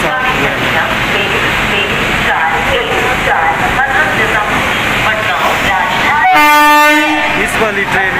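A train arrives at Surat station in Gujarat with a loud, continuous rumble of rolling rail cars and a long, blaring horn blast near the end, while a voice talks over it.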